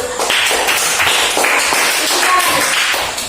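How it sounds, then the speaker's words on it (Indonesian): Pupils in a primary school classroom clap together in a rhythmic pattern of quick bursts, close and loud, repeating through the short stretch. "tepuk tangan"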